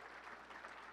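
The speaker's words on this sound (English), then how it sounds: "Big round of applause." A crowd applauds at an annual awards ceremony, a brief, faint wash of steady clapping with no distinct individual claps.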